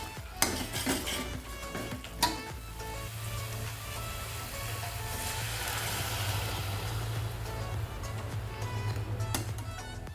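A metal spoon scrapes and clinks against a pan while a spice mixture for a koi fish curry with winter potatoes and cauliflower is stirred, with a low steady hum beneath and sharp clatters near the start and end.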